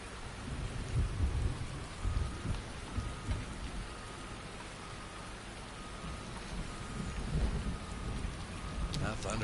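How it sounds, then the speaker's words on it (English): A thunderstorm in a PS4 video game brings steady rainfall with loud rolling thunder rumbles rising and fading throughout. "That thunder's loud."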